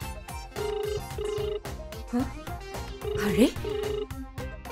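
A phone rings on and on with no answer, its repeated electronic tone pulsing steadily over background music while people talk and briefly exclaim.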